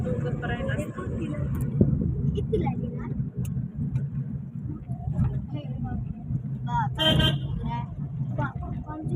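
A car drives along with its engine humming low and steady inside the cabin, while a few short horn toots sound from nearby traffic and people talk over the road noise.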